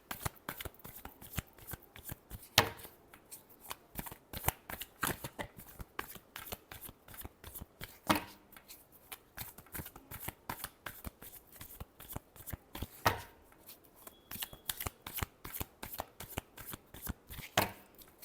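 Tarot cards being shuffled by hand during a Taurus reading, a steady run of crisp, close riffling flicks with a few louder snaps, heard alone with no talk.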